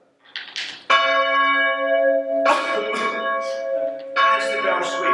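Church bells of St Thomas of Canterbury, East Clandon, Surrey, ring in three loud, resonant strikes with long humming tails overlapping one another, close and clear with no talk.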